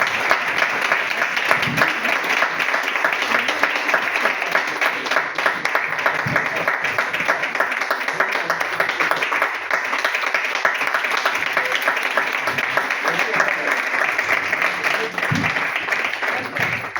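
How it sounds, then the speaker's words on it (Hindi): Loud, sustained applause from an audience at a TIENS demo event welcoming a guest, many hands clapping steadily and densely at close range with occasional louder individual claps. "एक बार जोरदार तालियां होनी चाहिए।"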